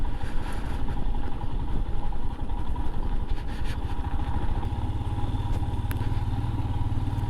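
A motorcycle engine runs steadily and loudly on the monsoon-hit mountain road between Joshimath and Badrinath, with a continuous rumble and occasional clatter and no talking.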